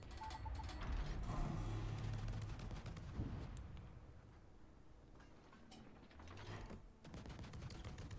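Warship main battery guns firing in the naval combat game World of Warships, heavy booming salvos and mechanical clatter layered over dense in-game rumble throughout, fairly loud with a sharp report near the middle.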